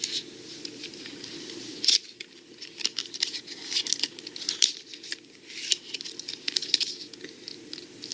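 Plastic packaging from an Apple Watch charger is crinkled and pulled apart close up, with irregular crackles, rustles and a few sharp snaps, and no talk.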